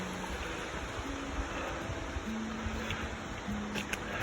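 A waterfall in Mount Rainier National Park gives a constant broad rushing roar of falling water. It is steady and fairly loud, with no talk over it.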